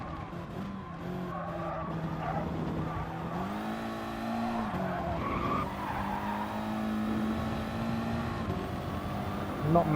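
In the GT Sport racing video game, a race car at Le Mans brakes hard for a big braking zone, its engine note dropping and rising while the tires squeal and skid, steady and close throughout.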